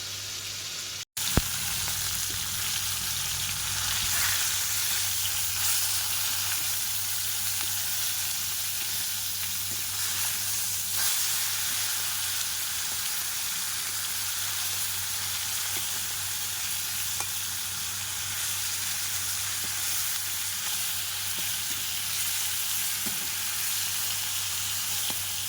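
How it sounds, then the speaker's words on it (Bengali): Pieces of pond-caught fish fry in a pan in a village kitchen, giving a steady, loud sizzle that runs without a break after a brief knock at the start, with no talking. "এখন মাছ ভাজা হচ্ছে"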